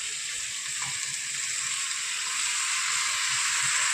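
Meat going into a pan of frying, slightly burnt onions, a strong continuous hissing sizzle that stays loud and close, swelling a little toward the end, with faint stirring knocks underneath.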